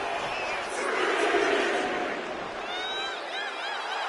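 Video game wrestling crowd in WWE 2K25 cheering in an arena, a steady loud roar of many voices that swells in the middle and carries on throughout, with a commentator's voice over it.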